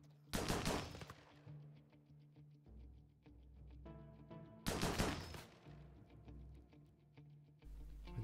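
Gunfire volleys in RimWorld: two bursts of rapid automatic shots a few seconds apart, sharp and close, with scattered single pops and a low rumbling hum between them, no talk.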